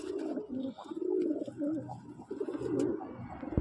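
Andhra and Chennai breeding pigeons in a loft coo repeatedly nearby, low rolling calls overlapping in an uneven rhythm with a few faint clicks.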